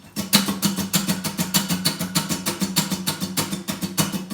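Steady acoustic guitar strumming on every beat with the wrist moving constantly up and down, a quick even rhythm of bright, close, evenly spaced strokes with no voices.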